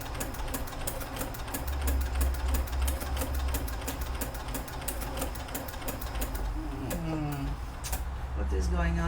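A sewing machine fitted with a ruffler foot attaches lace to fabric. It runs continuously with a rapid, even mechanical patter, and a voice speaks briefly near the end.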